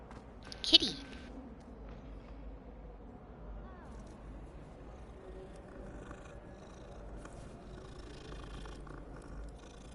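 A cat in the video game Hogwarts Legacy purrs softly and steadily in the background, after a brief sharp sound near the start, with a low game ambience underneath.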